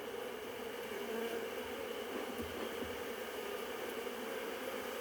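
Honey bees in an opened Flow hive during a first inspection make a steady, close, droning buzz that holds at a constant level throughout, with no voices.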